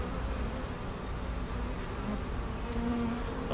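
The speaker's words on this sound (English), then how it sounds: "there's a bunch of bees with pollen" Honeybees at an urban beehive buzz steadily and close by, a low droning hum with a few individual insects rising briefly above it, no voices.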